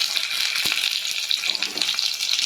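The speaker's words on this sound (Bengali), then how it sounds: "এবার আমি টমেটোটা দিয়ে দেব।" Tomato dropped into potato and pointed gourd curry frying in a pan, a steady close sizzle and crackle of hot oil with a brief thump as it goes in, no talking.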